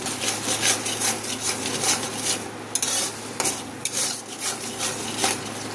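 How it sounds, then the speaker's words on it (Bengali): A cumin-based spice paste for cabbage pakora curry is stirred in a pan under a low, even sizzle, broken by regular scraping and clinking strokes of the spoon against the metal. "আর একটু ভালো করে কষিয়ে নেব।"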